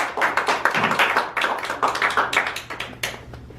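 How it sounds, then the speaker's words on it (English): Warm applause at a Toastmasters club meeting as the general evaluator takes the floor: a room of people clapping steadily and fairly close, a small group rather than a large crowd, fading slightly toward the end. "Let's give her a warm round of applause as she guides us through this portion of the meeting"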